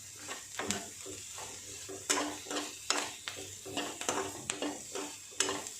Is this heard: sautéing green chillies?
yes